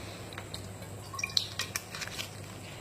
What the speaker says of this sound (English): I'm going to have a sip of water.